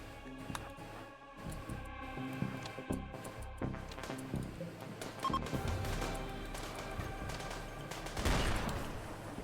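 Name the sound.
sniper gunfire in a video game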